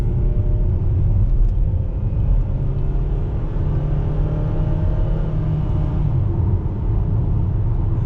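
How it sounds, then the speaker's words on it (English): Steady engine rumble from a 2020 Dodge Journey Crossroad with the 4-cylinder engine and 4-speed automatic as it accelerates, heard from inside the cabin as a loud, continuous low drone with road noise and no talking. "the Achilles heel of the Dodge Journey with the 4-cylinder, 4-speed automatic, is acceleration"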